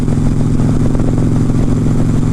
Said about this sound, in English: So this exhaust just purrs.